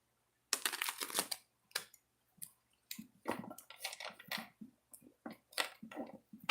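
Tarot cards shuffled in two bursts, soft riffling and flicking bursts in short irregular clusters, faint and close, separated by silence.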